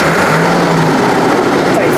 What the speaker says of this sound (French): C'est bruit, le tracteur, laisse tomber.